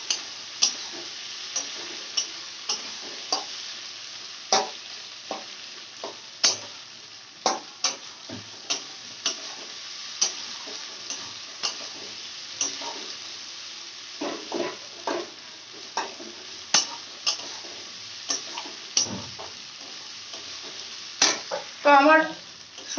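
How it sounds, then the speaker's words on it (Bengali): Mixed vegetables frying in a pan for a semolina dish, a continuous sizzle broken by repeated sharp scrapes and taps of a spoon stirring against the pan, close and fairly loud, with no voices. "আমার সবজিটা ভাজা হয়ে গেছে"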